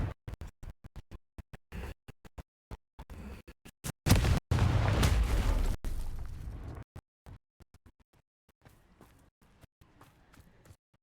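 A Confringo blasting spell goes off in Hogwarts Legacy, a loud burst with a roaring tail of about two seconds, set among sharp game clicks and footstep-like taps that fade to quiet.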